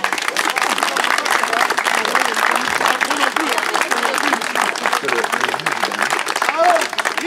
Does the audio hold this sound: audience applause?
yes